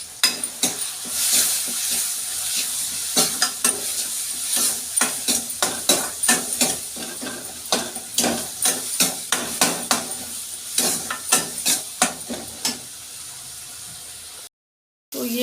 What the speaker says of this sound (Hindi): तो ये मसाला मेरा भून रहा है, अभी भुजा नहीं है